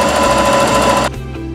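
A sewing machine runs a zigzag seam in a loud, fast, continuous mechanical rattle that drops abruptly to a quieter hum as stitching stops.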